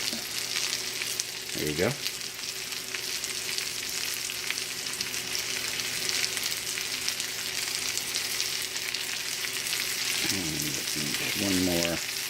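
Onions fry in a pan with a loud, steady sizzle and crackle, close up. A voice cuts in briefly near the start and again near the end.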